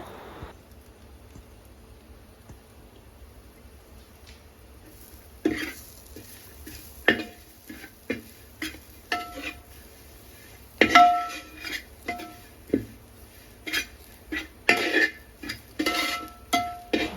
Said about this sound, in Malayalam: ഇനി ഇതിലേക്ക് വരട്ടാൻ വേണ്ടി നമ്മൾ ഇഞ്ചിയും വെളുത്തുള്ളിയും കൂടി ചേർത്ത് നന്നായിട്ട് ഇളക്കുന്നുണ്ട്